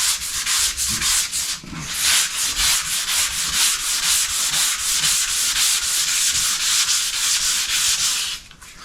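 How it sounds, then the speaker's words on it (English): Hand sanding a bathtub surface with sandpaper: steady, loud rhythmic scraping strokes repeat quickly and evenly for several seconds, close up and alone, stopping near the end. "you continue to sand until you don't see any black divots anymore"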